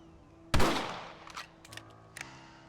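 Rifle fire in the video game Red Dead Redemption: one loud, close shot with a long ringing decay, followed by a few fainter, sharper shots at irregular intervals.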